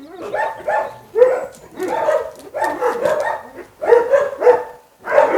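A German shepherd found in a forest barks in repeated bursts, loud and close, with short pauses between groups of barks and a few yips.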